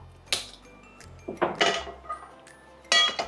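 A metal kadai pan is set down on a lit stove, giving a few close clanks and knocks of cookware, quiet and sparse with short gaps between them.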